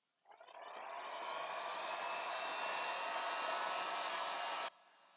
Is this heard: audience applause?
no